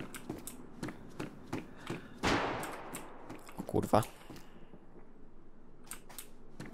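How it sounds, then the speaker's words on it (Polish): Several sharp gunshots crack close by in the DayZ game world, with a burst of loud reports in the middle and more scattered shots around it, while a man swears once and talks. "generalnie zajebiście blisko te strzały są."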